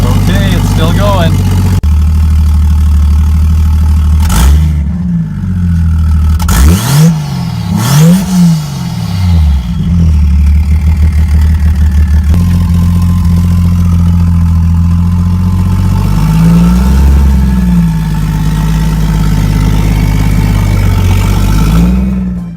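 A manual car engine idles steadily after a hard start, with a few sharp revs early on before settling into a constant low rumble that holds, loud and close.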